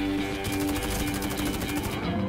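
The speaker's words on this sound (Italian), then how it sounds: "Ho sentito un cannone a posto di un fucile a pompa." Rapid, continuous gunfire from a shotgun in the online shooter Warface, a dense burst of repeated shots lasting about a second and a half, loud and close, with game music and ambience underneath.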